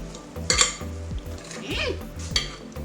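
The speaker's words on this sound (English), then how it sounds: "You just want to mix it until it's mixed up well" A fork clinks and scrapes against a bowl while mixing vegan peach cobbler batter, with irregular taps and stirring scrapes close by, a few sharper clacks standing out.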